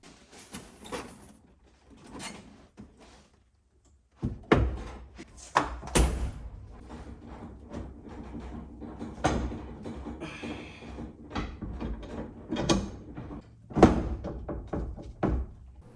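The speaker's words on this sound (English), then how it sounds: "Let's drop the seat on." A car seat is lowered onto custom seat rails in a Volvo 740, giving scattered metallic thunks and clunks, one heavy knock and several lighter taps and bumps spread out at close range.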